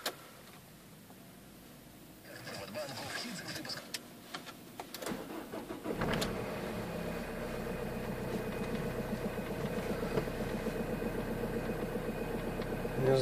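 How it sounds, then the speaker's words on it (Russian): Diesel car engine cranks and starts from cold with cleaner additive in the fuel, then settles into a steady, loud, close idle that fills the rest of the clip. "Холодный пуск"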